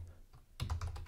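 Fingers typing on a computer keyboard while entering AWS command-line commands, a quick burst of several close, crisp key clicks after a short pause.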